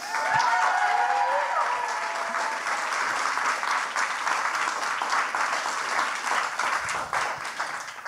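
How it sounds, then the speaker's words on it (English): A large Science Slam audience applauds continuously, loud and sustained, with a few faint voices mixed in at the start. "I would like an applause for myself as encouragement"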